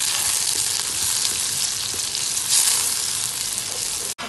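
Garlic frying in melted butter, a steady, close, loud sizzle with a dense crackle that holds evenly for several seconds before a brief break near the end; no one speaks.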